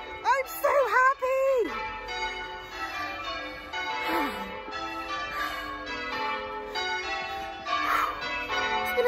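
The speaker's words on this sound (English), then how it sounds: "They're ringing the bells!" Church bells ring at St. Lawrence church in Eyam, Peak District, a steady tolling heard at moderate distance beneath an excited voice and outdoor hiking noise.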